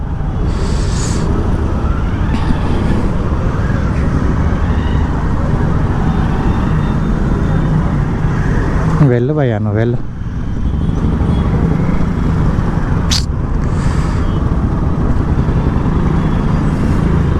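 Dense traffic crawls along a narrow, crowded road: engines rumble continuously nearby, a sweeping horn or siren blares briefly midway, and a sharp click follows, with someone speaking over the noise.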